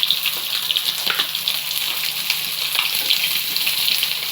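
Shankar fish pieces frying in hot oil in a Bengali home kitchen, a steady dense sizzle with soft bubbling crackles running continuously at close range, no talking.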